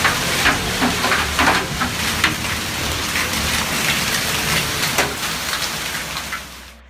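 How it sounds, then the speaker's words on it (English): Heavy rain driven by 50 mph winds during a storm in El Paso, Texas, a loud, dense, continuous hiss of downpour with scattered sharp impacts throughout. "Heavy rain combined with 50 mph winds created a magnificent yet dangerous scene."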